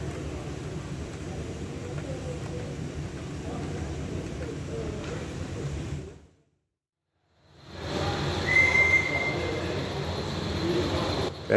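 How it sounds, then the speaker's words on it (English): A Regner Bavarian live steam model locomotive runs on an indoor oval track at a tram museum, giving a steady rolling rumble with faint hissing, a brief gap of silence midway, then continuing close by. "And we have a Regner Bavarian locomotive."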